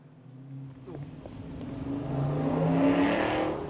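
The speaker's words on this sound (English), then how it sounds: "Loud ass car, bro." A loud car drives past in the video game Yakuza: Like A Dragon, its engine revving and roaring as it builds steadily to a peak near the end, then begins to fade slightly.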